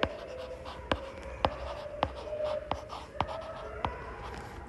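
A pen writes a math solution on paper, sharp taps and scratchy strokes coming in a rhythmic series roughly every half second, close and fairly quiet, with no voices.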